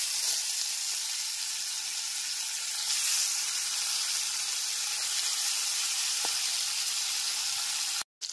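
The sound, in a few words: pabda fish sizzling as added to hot oil in a pan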